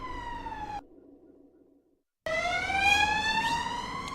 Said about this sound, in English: You just heard a siren.